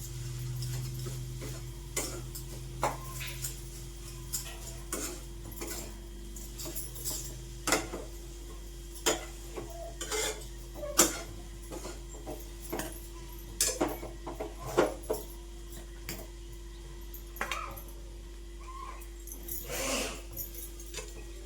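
A small spoon stirs jaggery modak filling in a pan, producing repeated soft scraping taps and clicks at an irregular, steady pace, close and fairly quiet against a low hum.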